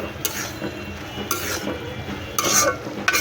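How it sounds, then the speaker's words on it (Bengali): Potato bhaji is stirred in a pan with the lid just lifted, giving a few distinct scraping and clinking strokes of a utensil over a soft background sizzle. "এখন ঢাকনা উঠিয়ে একটু নাড়াচাড়া দিয়ে দেবো"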